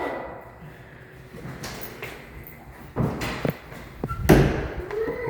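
A door swings open inside a newly bought house, a couple of muffled thumps and a louder knock near the end over a quiet indoor room hum, close to the listener.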